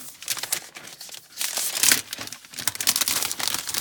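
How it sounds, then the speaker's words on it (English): Plastic film and paper wrapping crinkle and tear off a new iPad Pro 12.9 box in dense, close crackling bursts, with no talk. "And let's unwrap it. That's a very satisfying sound."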